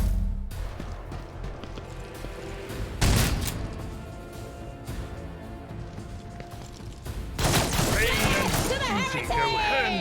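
Gunfire in Warhammer 40k Rogue Trader, bursts of rapid shots and crashing impacts, with a loud volley around the third second and another heavy burst late on, mixed with voices and game music.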